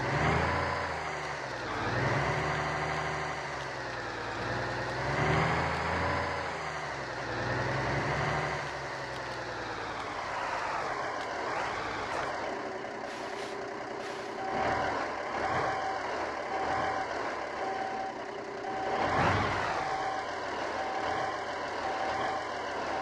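Truck hauling a trailer in an Alaskan truck-driving video game, a heavy diesel engine idling and revving through gear changes, with bursts of air brake hiss and a steady reversing beep joining midway.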